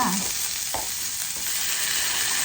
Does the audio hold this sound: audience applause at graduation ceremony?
no